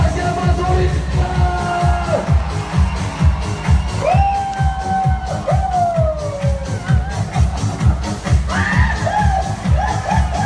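The audience shouts and whoops at a flying board show at Daegu Spa Valley, with rising and falling yells over a loud, pounding rhythmic beat that runs throughout.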